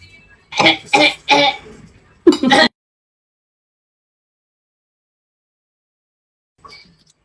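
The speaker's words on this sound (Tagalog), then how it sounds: "Ubo yan, ubo yan." Three quick coughs in a row, then a short pause and one or two more rough coughs, close by, followed by near silence.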